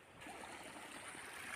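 Water runs steadily through a small irrigation canal beside a farm pipeline, producing a soft, continuous rushing trickle from close by with no voices.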